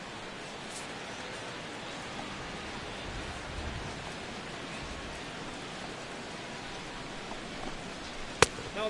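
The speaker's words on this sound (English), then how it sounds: "the rain continues to fall here" Steady rain hisses over a ballpark in the MLB 16 The Show baseball video game during a Toronto Blue Jays regular-season game, a dense, even wash of noise with no voices and one sharp tick near the end.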